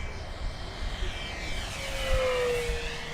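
FMS P-39 Airacobra 980mm RC warbird model plane flying fast overhead, its electric motor and propeller giving a steady whine that rises and sweeps past, fairly faint over wind noise with no talk.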